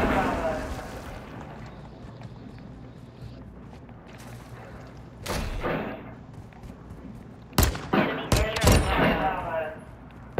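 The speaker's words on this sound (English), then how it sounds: "With the pistol popping" Pistol shots in Call of Duty: Modern Warfare II, a few sharp cracks clustered near the end after one earlier shot, set against steady game ambience.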